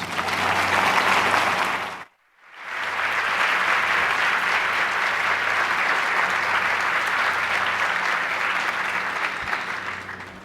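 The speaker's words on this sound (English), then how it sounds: "Please join me in warmly welcoming Tekla Roberts" Loud audience applause welcoming a speaker to the stage, dense clapping that stops briefly, then resumes and carries on steadily.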